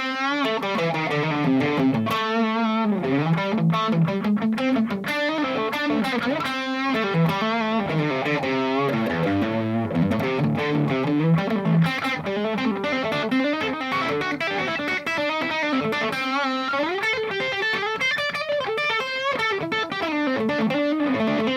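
Distorted electric guitar plays fast pentatonic licks and runs with passing tones, a dense stream of sustained, bending notes that carries on for the whole stretch with no talking.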